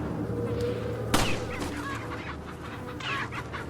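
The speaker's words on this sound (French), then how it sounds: "Je tue des poules" Several chickens cluck and squawk in the video game Resident Evil 4 Remake, with one sharp sudden squawk, over a low background hum.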